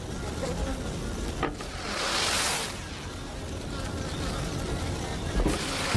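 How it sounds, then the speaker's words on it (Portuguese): A dense, steady buzz of many bees inside a hive fills the clip, swelling louder in the middle before settling back into a continuous hum. "Dentro da colmeia, a colônia inteira começa a criar uma onda de som."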